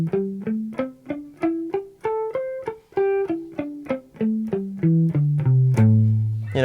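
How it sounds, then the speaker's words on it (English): Electric guitar scale run up and back down with palm muting on every note, each pick stroke a short, clipped, thudding tone with quick decay, evenly paced and alone, ending on a longer ringing note. "you can practice playing the scale up and down by palm muting each note."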